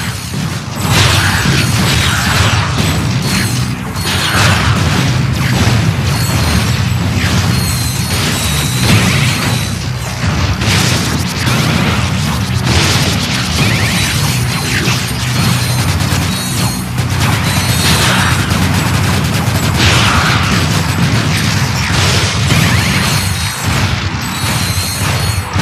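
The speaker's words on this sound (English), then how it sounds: "Explosions are pretty." Explosions from the PS2 game Ratchet: Deadlocked boom and crash continuously over dense mechanical game noise, with loud, overlapping blasts and clattering debris throughout.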